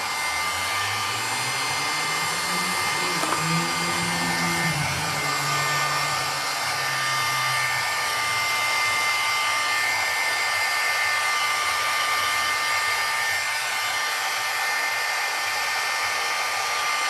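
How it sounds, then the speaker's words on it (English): A heat gun blows steadily on embossing powder on a craft tag, giving a loud, continuous whooshing roar like a hair dryer that runs without a break for the whole stretch, with no talking. "Now I don't want to heat gun it too long because I don't want to remelt the embossing powder."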